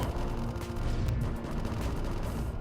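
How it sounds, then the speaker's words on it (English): Continuous gunfire in the video game AM2R from Federation troopers, a dense steady crackle of shots rumbling without break at moderate loudness. "I hear guns."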